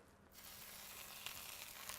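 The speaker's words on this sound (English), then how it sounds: "You will hear a slight sizzle when we put it in" Salmon fillet laid skin-side down in a pan, giving a gentle, even sizzle without spitting that rises quickly and then holds steady at moderate volume.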